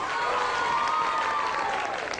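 A studio audience at a morning TV show applauds steadily, dense continuous clapping with a faint murmur of cheering underneath.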